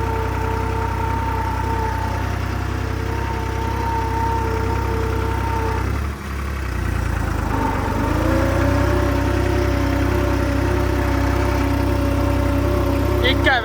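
A three-cylinder New Holland tractor engine pulling a laser leveler runs with a low, steady throbbing rumble that briefly dips midway, then picks back up and keeps chugging.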